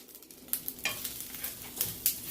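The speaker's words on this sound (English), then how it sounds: "So the rice is frying very nicely. It's crackling." Rice for shrimp fried rice frying in a hot pan, with a steady sizzle broken by sharp, irregular crackles and pops close by.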